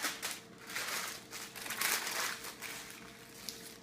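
Parchment paper crinkles and rustles close by as dough is wrapped in it, with irregular crackly handling noises throughout and no talking.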